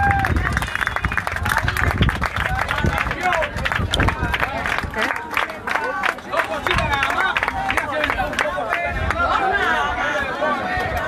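An audience applauds two dancers after a religious cultural performance, with steady close clapping mixed into crowd chatter and voices throughout.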